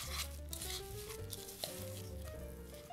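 A spoon stirs melted chocolate through Rice Krispies for vegan chocolate rice treats, a soft continuous crackly patter and scraping under a low steady background hum and faint music.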